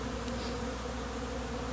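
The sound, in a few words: honeybees buzzing at abandoned hive entrance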